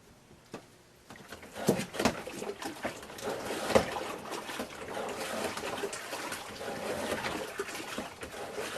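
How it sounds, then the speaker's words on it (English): A Lehman's manual wringer washer, its lever pushed back and forth to swish water and air through the clothes, makes repeated watery sloshes and splashes, close and fairly loud, with a few knocks near the start. "You push the lever back and forth, and it swishes through those little holes, pushing air and water through."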